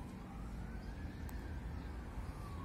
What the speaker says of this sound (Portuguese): As ambulâncias passam tudo ali, né? Na BR, passam tudo doidinho, ó. Passou lá a sirene.